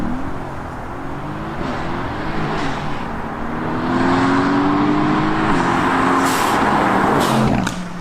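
Renntech-tuned Mercedes-AMG GT-S with 625 brake horsepower accelerating on a British B road, its engine note climbing through steady revs and growing louder midway, heard from inside without talk.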